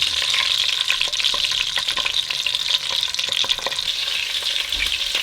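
Sweet Italian sausage browns in a pan for a Bolognese sauce, giving a loud, continuous, crackling sizzle up close with faint stirring clatter and no voices.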